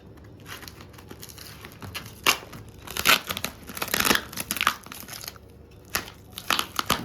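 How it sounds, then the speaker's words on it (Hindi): Thermocol packaging wrapped in tape is unpacked, giving close bursts of crinkling, tearing and rustling that come in irregular loud clusters between quieter pauses, with no talking. "थर्मोकॉल की पैकिंग के अंदर फिर से टेपिंग की हुई है। इस टेप को कहाँ से काटे?"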